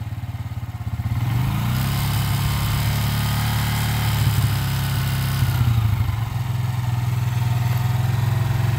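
A motorcycle held in first gear drones close by as a learner tries to lift the front wheel, with a steady buzzing engine note that swells as it revs and then settles, and nobody speaking.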